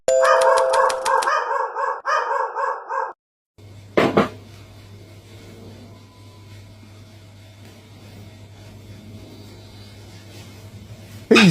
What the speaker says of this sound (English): He's some kind of mountain dog or something.